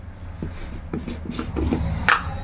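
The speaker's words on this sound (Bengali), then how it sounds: "তাই এখানে কাবলি ছোলাগুলো ঢেলে দিলাম" Dried chickpeas poured into a pressure cooker, giving a run of rattling, rustling taps and scrapes in uneven clusters, close and moderately loud, with no talk over it.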